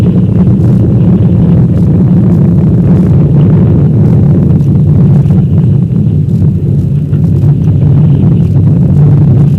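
An Apollo 4 Saturn V rocket launch produces a continuous, overpowering low rumble that crackles and buffets without pause, shaking the building as it roars on for the whole stretch.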